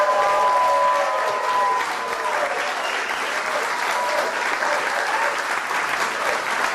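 Audience applause at a GOP senators' dinner, a dense, steady wash of many hands clapping that stays loud throughout, with faint voices mixed in at the start.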